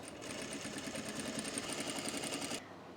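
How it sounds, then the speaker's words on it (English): A sewing machine stitches the side seams of a garment in a steady fast mechanical whir that runs continuously, then stops abruptly near the end, alone and moderately close. "Let's sew these side seams."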